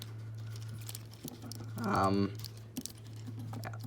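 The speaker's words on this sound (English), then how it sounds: "Sorry if you can hear typing in the background." Quick bursts of keyboard typing clatter faintly in the background beneath a steady low hum, with a brief louder patch of keystrokes in the middle.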